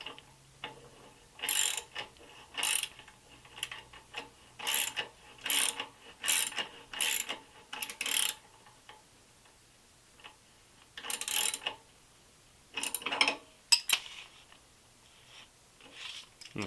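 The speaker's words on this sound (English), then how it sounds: "use that 17mm wrench on the back, and then tighten up the socket bolt right here through the peg" Wrench and socket tightening an Allen socket bolt through a rearset foot peg on a Honda Ruckus scooter, with repeated bursts of close ratcheting clicks separated by short pauses.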